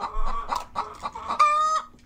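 Chickens at a backyard coop clucking in a quick run of short calls, ending in a louder drawn-out squawk, close and clear with no talk.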